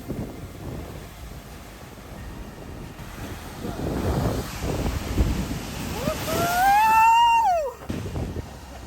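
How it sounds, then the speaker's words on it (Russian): Strong waves crash on the rocks at Devil's Tears on Lembongan island, a loud, continuous wash of surf buffeted by wind noise, with a rising whistling tone near the end. "там такой спот, разбиваются очень сильно волны, все это очень эффектно"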